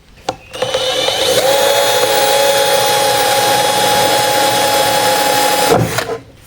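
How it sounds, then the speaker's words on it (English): Power drill boring a hole through a wooden drawer, a sustained loud whirring motor tone lasting several seconds with a short spin-up and wind-down at either end. "So I'm just going to drill a hole there."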